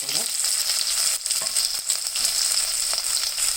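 Semolina upma frying in a pan, a steady close sizzle with scraping stirs running throughout and no talk.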